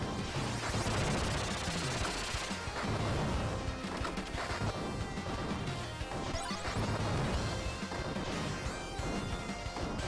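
Hyper missile attack in the PC shoot-'em-up Earthion: a dense, loud barrage of crashing blasts and rapid explosive impacts that runs without a break over busy game music, with no talking.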